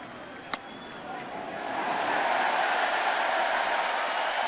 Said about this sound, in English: the fans are booing